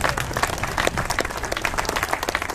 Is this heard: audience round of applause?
yes